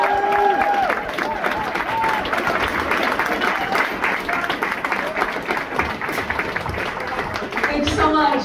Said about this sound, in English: Give it up for Audrey.